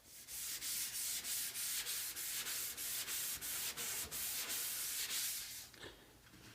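Hand sanding scuffs the old paint on a Jeep body before spray painting, a loud close rasp in fast even strokes that slows and fades near the end.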